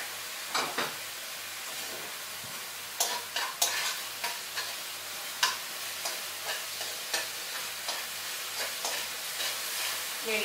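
Honey and balsamic vinegar sizzle steadily in a hot pan while a utensil scrapes and stirs through it, sharp clicks and knocks recurring every half second or so over the continuous frying hiss.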